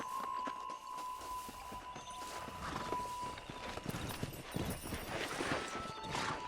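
Horse hooves clip-clop in a quick, uneven rhythm while riding in the video game Red Dead Redemption, with an occasional snort over a steady background hum.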